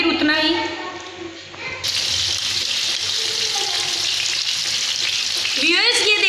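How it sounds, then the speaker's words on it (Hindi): Chapli kabab patty frying in a pan, a steady loud sizzle that jumps in intensity after the raw patty goes into the hot oil, with a voice talking over it. "ये देखिए हमने इसको अंदर डाल दिया है टिक्की को मैंने, और ये देखिए ये बिल्कुल छोटी होती जा रही है"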